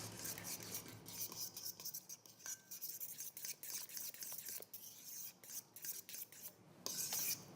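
Banana pancake batter being mixed in a bowl, with steady raspy scraping strokes that rise and fall in a quick, uneven rhythm. Close and moderately loud, with no talking.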